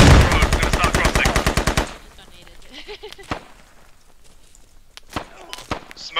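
Automatic gunfire in the military shooter game Squad: a loud, rapid machine-gun burst opens, then scattered single shots and cracks follow at irregular intervals, some sharp and close, others quieter and more distant.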